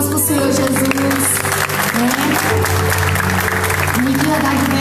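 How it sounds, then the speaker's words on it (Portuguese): Applause from a church congregation during a worship service, a steady wash of clapping filling the room while a voice keeps talking over it. "Dê uma salva de palmas para o Senhor Jesus"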